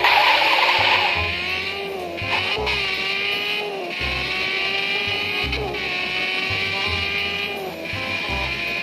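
A Honda Civic in the Car Parking Multiplayer video game pulls away from a start, engine revving loudly and rising in pitch through several gear shifts with brief dips between, steady and close with no talk.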